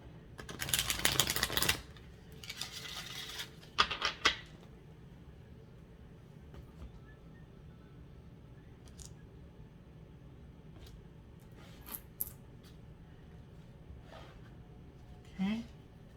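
A deck of tarot cards being shuffled and cut in a quiet room, with a few dense rustling bursts near the start and then mostly low hush broken by soft, sparse card clicks.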